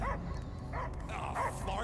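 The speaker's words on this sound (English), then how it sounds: "I hear only barking." Dog barks and yips in Marvel's Guardians of the Galaxy video game, a few short bursts over a steady low game ambience, moderately close, with faint voices in the background.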